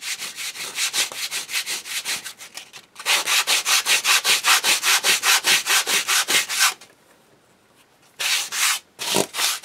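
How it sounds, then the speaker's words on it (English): A small resin piece is rubbed with a fingernail-type sanding block in fast, even back-and-forth strokes, close and loud, in two long bursts separated by a brief quiet pause, then a few shorter strokes. "this is a sanding block. This is the kind you use for your fingernails."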